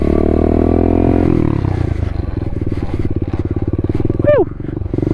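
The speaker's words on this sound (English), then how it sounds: "This bike is stupid fun. It's a little 125 SSR. This thing is a fucking riot to ride, man." A little SSR 125 pit bike's engine while riding: loud, close and steady, a throbbing idle that drops into a lower chugging putter, with a few quick rising squeaks near the end and someone talking over it.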